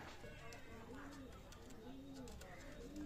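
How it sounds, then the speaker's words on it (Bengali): Master pair of pigeons kept for sale cooing softly in low, rounded repeated coos, with other birds faintly chirping in the background, under a steady low hum. "নরমাদি মাস্টার পেয়ার কবুতর অনলি পড়বে 3500 টাকা ভিউয়ার্স।"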